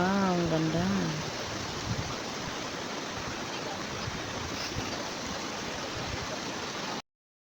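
A river flows in a steady, broadband rush throughout, with a voice briefly heard at the very start before the water continues alone.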